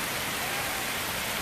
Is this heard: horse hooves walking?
no